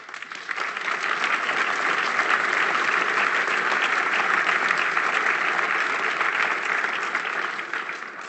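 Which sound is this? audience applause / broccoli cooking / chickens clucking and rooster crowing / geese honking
audience applause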